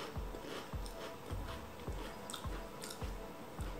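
Crunchy white-wine grissini breadsticks being chewed up close, steady rhythmic crunching bites about every half second with wet mouth sounds, no talking.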